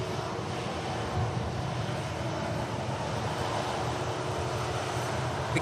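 A Qatar Airways airliner departs Manchester Airport, its steady broadband engine roar holding at a constant, moderately loud level throughout, with no voices.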